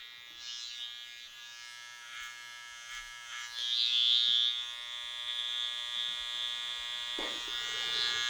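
Electric clippers trim the side of long curly hair to tidy it. A steady, close, high-pitched buzz runs throughout and swells slightly as the blades meet the hair. No one speaks.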